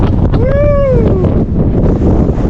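Strong wind buffets the microphone on the open deck of a BC Ferries vessel crossing from Tsawwassen to Duke Point, a loud continuous roar with a voice calling out briefly over it.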